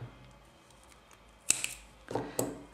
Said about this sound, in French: Une maille en l'air et on coupe le fil.